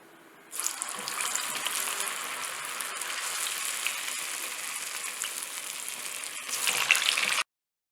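Vada batter deep-frying in hot oil for an Aadi Amavasai special meal: a loud, steady sizzle that starts suddenly and continues unbroken for several seconds, then cuts off.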